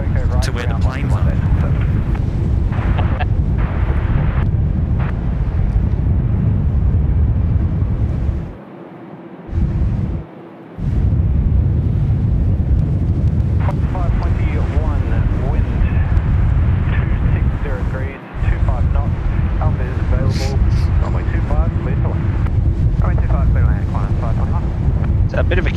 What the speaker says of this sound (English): We've got the 737 coming in from Brisbane.